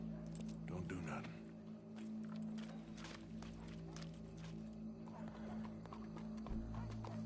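Rhythmic clip-clop of horse hooves with an occasional whinny in Red Dead Redemption 2, layered over steady background music and ambient noise.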